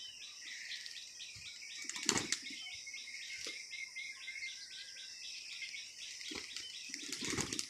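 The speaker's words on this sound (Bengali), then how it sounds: "এই যে প্রথমে সাদা জোড়া নামলো, তারপরে কালো জোড়া, আস্তে আস্তে সমস্ত কবুতর নামতিছে।" Pigeons land on a rooftop with a few brief, faint bursts of wing flapping, heard over a continuous high chirring of insects in the background.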